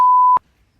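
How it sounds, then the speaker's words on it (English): A single clean censor bleep, a steady pure tone lasting about a third of a second, is followed by near silence. "I'm going to beep all of these."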